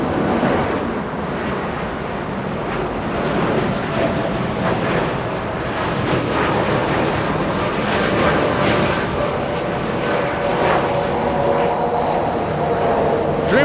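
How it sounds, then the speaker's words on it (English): An American Airlines Boeing 787-8 Dreamliner, flight 2644 to Miami, passes at Los Angeles International Airport as a loud, steady, rushing engine roar mixed with wind noise, sustained throughout. "Dreamliner, that was American 2644 flying to Miami, Florida. Dreamliner 787-8."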